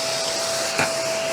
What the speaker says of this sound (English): that's obviously what I use my little desk vacuum for